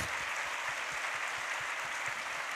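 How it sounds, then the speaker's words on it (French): A studio audience applauds at a French television talk show in a steady, dense wash of clapping that stays at an even level throughout, with no voices over it. "je pense qu'on peut vous applaudir."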